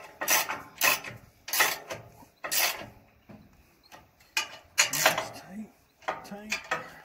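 A wrench tightens bolts on a Titan BX42 wood chipper on a homestead, giving a series of sharp metallic ratcheting clicks and clanks in uneven bursts, close by, with a person talking in between.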